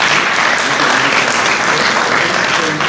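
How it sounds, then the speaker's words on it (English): Loud, dense applause from a graduation ceremony audience fills the whole stretch, steady and unbroken with no voices on top. "So let's give her a round of applause,"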